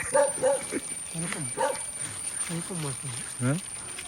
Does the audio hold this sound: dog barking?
yes